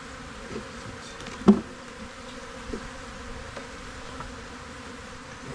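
Honey bees buzzing around hive comb removed from a chimney, a continuous close drone of many insects with a brief louder knock partway through, and no speech.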